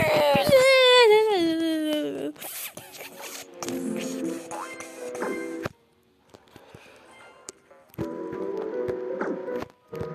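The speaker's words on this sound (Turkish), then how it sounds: "Bak ağlama sesleri geliyor ne alaka" A cartoonish baby cry wails in a mobile platform game, a rising and falling sobbing tone followed by clicks, plinky game music and brief silence, with no one talking over it.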